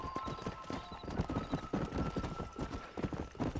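Horse hooves gallop in a steady, rapid clip-clop rhythm in Red Dead Redemption, close and clear, with a brief whinny and faint voices beneath.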